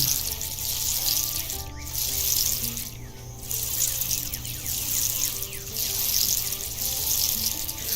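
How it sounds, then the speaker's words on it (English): Water pours steadily in the farming video game Dinkum as crops get watered, a continuous hissing splash over soft background game music, with two brief gaps in the flow. "Alright, got to water the crops as well, so let's get that done"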